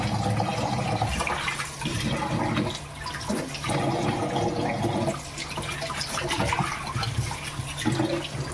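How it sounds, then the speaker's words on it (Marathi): Running tap water splashes loudly and continuously over Bombay duck fish (bombil) being rinsed clean in a home kitchen before frying, a close, full wash of water with no speech. "हे बोंबील धुवायला घेतले."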